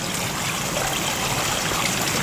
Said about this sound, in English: there's all the water now from the upper ditch flowing beautifully through the spring well and down into the watercourse.